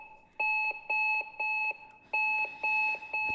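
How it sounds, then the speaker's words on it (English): An alarm in a running video game level, sharp pulsing double-tone beeps repeating in a steady rhythm, loud and clear with a short pause before the pattern starts again. "I had to listen to that alarm every single time now"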